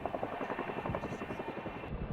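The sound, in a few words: Chinook helicopter carrying a Sea King helicopter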